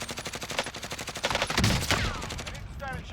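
Automatic gunfire in the video game Warzone, a rapid, loud, evenly spaced stream of shots rattling for about three seconds, with a voice briefly audible beneath it.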